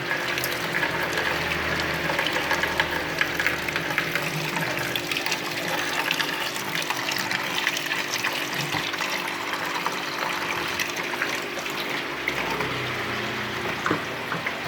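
Water gurgles and rushes through an aquarium siphon hose as it is poured out into a container below, a steady splashing flow heard up close, with no talk.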